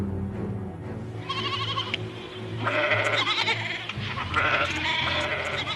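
Cartoon goats on a farm bleat loudly in several wavering, repeated calls, heard over a steady bed of background music.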